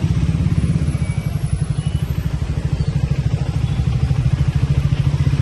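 A Triumph motorcycle engine pulses loudly and steadily while riding, with a rapid, throbbing low-frequency exhaust beat heard up close throughout.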